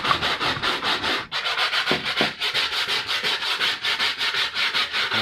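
Rhythmic scrubbing of old material off the saggy A-pillar trim of a Volvo S60, steady back-and-forth strokes at a brisk pace, close and loud, with a short pause near the middle and no talking.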